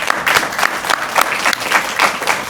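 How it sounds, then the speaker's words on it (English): Steady applause at a candidates forum, dense clapping from a crowd filling the whole stretch at a fairly loud, even level. "Everybody give Brian a round of applause."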